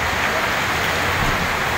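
Rain falls outdoors at night as a dense, even hiss that stays loud and unbroken throughout, with no voices over it.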